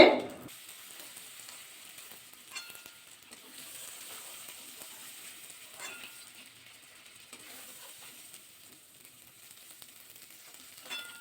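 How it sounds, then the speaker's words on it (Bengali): Soft, steady sizzling of prawns frying in hot oil, fairly quiet, with a few light clinks and taps scattered through. "এক মিনিটের মধ্যে কিন্তু মাছগুলো কিন্তু ভাজা করে নিয়েছি"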